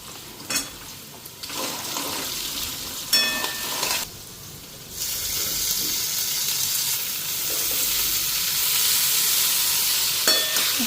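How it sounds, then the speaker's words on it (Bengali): Potatoes fry in oil in a pan with a continuous sizzle, interrupted by scraping stirs and a few clinks of a utensil against the pan; the frying hiss swells louder toward the end. "তো আলুটা একটু ভাজা হোক"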